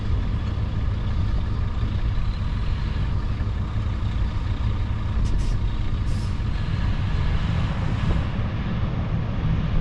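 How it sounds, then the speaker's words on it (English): A 15-ton dump truck backs up to dump its load, its engine droning steadily at close range with faint hissing of air brakes partway through. "Now he's backing up to dump that load."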